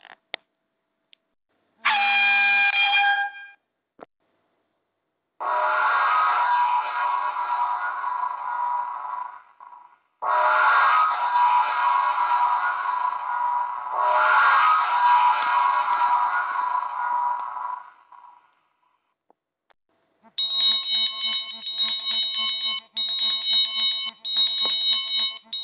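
Ship sound-signal devices ring out in turn: a short whistle blast, then two long, steady whistle blasts, followed by a run of clear, ringing bell or gong strokes, loud with no talk.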